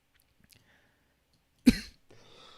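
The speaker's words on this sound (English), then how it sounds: "I was trying not to cough inside the mic." A single sharp dry cough close to the microphone, with quiet breathy sounds before it and faint noise trailing after.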